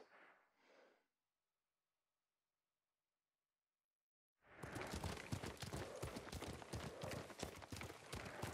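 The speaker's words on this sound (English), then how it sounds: "What a good horse." A horse in the video game Ghost of Tsushima, heard after a brief snort and a long silence as a burst of rapid, loud hoofbeats running at a gallop, continuing to the end.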